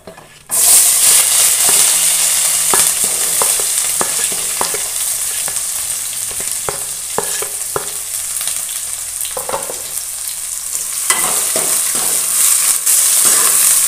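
Onions and green chillies fry in hot oil for a chicken curry, a loud sudden sizzle as they hit the pan, then steady crackling with scattered stirring clinks.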